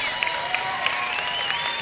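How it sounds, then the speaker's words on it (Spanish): Applause from a church congregation, heard faintly and steadily under a sustained backdrop with a few brief sharper accents, short and fairly distant. "Dale un aplauso, claro que sí."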